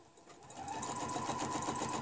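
A sewing machine runs continuously, stitching a fabric hexagon guided by a ruler, with a steady, rapid mechanical hum and needle clatter that rises in speed after a brief start, close and alone.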